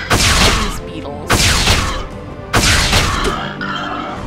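Three heavy, booming shots from a medic gun fired at beetles in the online game Scarlet Blade, evenly spaced about a second apart, each loud and close with a long ringing decay.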